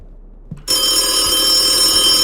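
A telephone in a video game starts ringing after a brief quiet moment, then holds a loud, steady electronic ring to the end.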